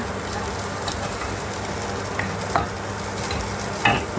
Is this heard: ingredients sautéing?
yes